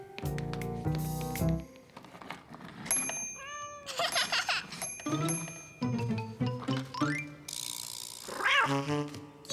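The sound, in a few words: child imitating cat meowing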